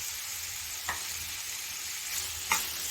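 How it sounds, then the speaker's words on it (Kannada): Mashed potato is stirred into softened onions in a pan for bonda filling, giving a soft continuous sizzle and hiss broken by two faint spoon scrapes. "ಆಲೂಗಡ್ಡೆನ ಇದಕ್ಕೆ ಸೇರಿಸ್ಕೊಳ್ಳೋಣ. ಸೇರಿಸ್ಕೊಂಡು ಚೆನ್ನಾಗಿ ಮಿಕ್ಸ್ ಮಾಡ್ಕೊಳ್ಳೋಣ"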